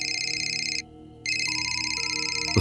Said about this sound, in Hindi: एक तेज कर्कश रिंग ने उस भयानक चुप्पी को तोड़ा।